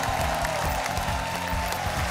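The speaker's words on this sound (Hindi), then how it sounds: "तालियां।" Studio audience on the Dus Ka Dum game show applauds, a steady wash of clapping with crowd noise beneath a music bed, filling the whole stretch at a constant level.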